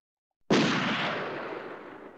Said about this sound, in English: one blast of a gunshot